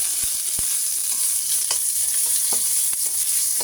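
Garlic and onion sizzle loudly in an oiled pan, a constant bright frying hiss with occasional scrapes and taps of a stirring utensil, close and uninterrupted by talk.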